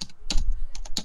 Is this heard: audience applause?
no